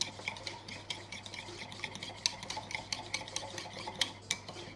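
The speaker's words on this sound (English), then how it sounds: "And you gotta whisk it." A whisk clatters rapidly against a bowl while stirring a runny sauce thinned with pickle brine, with quick, irregular metallic ticks repeating close up and steadily.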